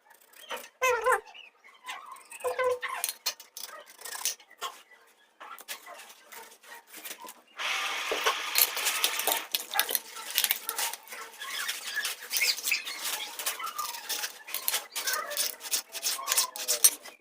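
A knife taps and chops through onion on a board, a run of quick irregular close-up cuts that grows denser and busier midway, with no talk over it.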